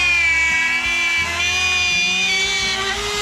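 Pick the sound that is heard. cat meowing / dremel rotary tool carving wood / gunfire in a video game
dremel rotary tool carving wood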